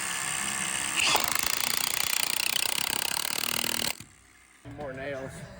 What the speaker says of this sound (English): Drilling some 1/2-inch Simpson anchor bolts, 6 inches long, in the exterior foundation plates.